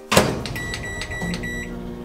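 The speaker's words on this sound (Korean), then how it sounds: "랩을 싸주고 이제 전자레인지에 넣어줄 거예요." A microwave oven runs with clay dough wrapped in plastic wrap inside, giving a steady hum with a faint whine after a soft thump at the start.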